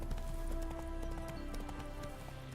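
Hoofbeats of a galloping horse in The Witcher 3, quick repeated thuds over a steady hum and ambient game music, faint and somewhat distant.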